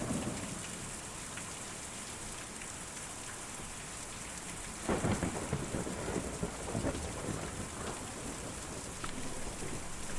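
Steady heavy rain from a thunderstorm in the Kentucky Route Zero video game, with a low rolling thunder rumble swelling midway and a dense patter continuing throughout, no voices.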